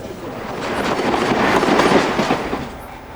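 A Chiltern Railways turbo train runs on the line between Birmingham and London, its loud steady rumble and rhythmic wheel clatter swelling toward the middle and then easing off, with no voices over it.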